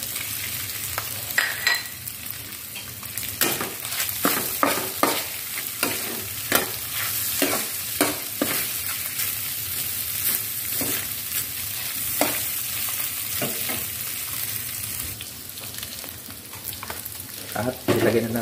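Sliced hotdog frying and being stirred in a pan for spaghetti, a steady soft sizzle with repeated scraping and clacking stirs, close up, no talking.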